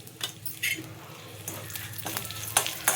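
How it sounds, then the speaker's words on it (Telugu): Mustard seeds crackle and spit in hot oil during tempering for chutney, a close, steady fizzing sizzle punctuated by a few sharp clinks of a stirring spoon against the pan. "చాలు ఆవాల దగ్గర కొంచెం ఎక్కువ వేసేసి మంచిగా వేగనిద్దాం"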